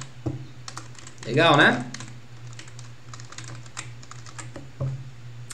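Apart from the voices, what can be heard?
typing on computer keyboard in nano editor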